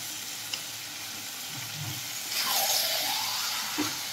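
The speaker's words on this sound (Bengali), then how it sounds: "এবার আমি দিয়ে দিলাম আলুর টুকরোগুলো" Potato pieces dropped into a pan of country chicken frying in oil and spices for a curry, giving a steady close sizzle that swells briefly as they go in, with a few soft clinks.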